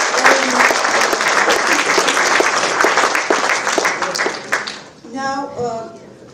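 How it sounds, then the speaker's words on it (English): Loud, dense applause fills a conference hall at a communication management conference valedictory session, steady clapping that fades out near the end as a voice begins speaking. "A big round of applause for them."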